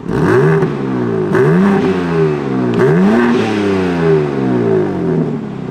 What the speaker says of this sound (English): we're gonna get some stock revs to see how quiet this thing is right now